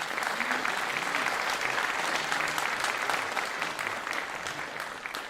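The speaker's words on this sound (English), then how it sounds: "Can we give Paul Horton one more final round of applause as he exits the stage?" Steady, dense applause from a graduation ceremony audience as a guest named Paul Horton leaves the stage, a continuous wash of many hands clapping for about five seconds with no talk over it.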